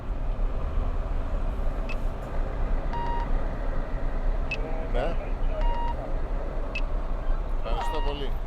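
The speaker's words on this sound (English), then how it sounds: "Got some trucks backing on." Trucks back onto a ferry at a Greek island port, their reversing alarms sounding in repeated short beeps over a busy rumble of engines, with voices talking nearby.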